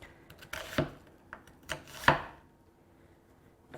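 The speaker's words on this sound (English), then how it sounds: "I'm going to also slice a medium-sized onion" Knife slicing a medium-sized onion on a cutting board, several sharp chops at an irregular pace, close and fairly quiet, with no voices.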